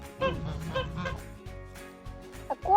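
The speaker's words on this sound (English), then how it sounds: "Here we've got a few ducks and gooses." Ducks and geese at a bird park honk and call in short bursts close by, a few rapid calls, then quieter gaps and a sharper call near the end.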